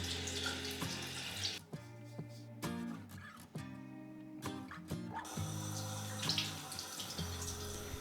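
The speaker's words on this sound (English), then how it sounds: "Next, I splash a little bit of cool water on my face and pat it dry." Running tap water in a bathroom sink during a morning face wash, a close, steady stream with brief breaks and shifts as cool water is splashed on the face. No one speaks over it.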